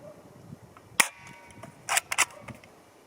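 A Steyr TMP (Double Eagle) fires at a target 10 m away. One sharp crack is followed by a tight burst of three snappy shots a second later, all close and dry against quiet surroundings.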